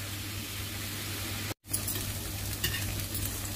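Tomato dosa batter cooking on a hot pan, a soft steady sizzle with a brief dropout and faint scraping touches, no talk.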